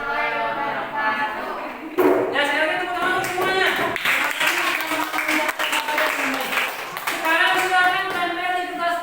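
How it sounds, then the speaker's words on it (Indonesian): Clapping breaks out at a group gathering, a burst of many hands starting about two seconds in and continuing unevenly while voices talk over and around it. "saya lagi tepuk tangan untuk semuanya"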